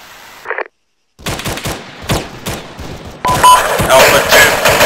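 Machine gun fire in the video game Arma 3 comes as a rapid rattling burst of close shots after a brief silence, building into denser, louder fire toward the end, with radio chatter at the start.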